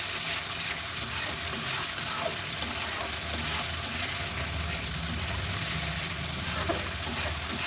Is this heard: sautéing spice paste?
yes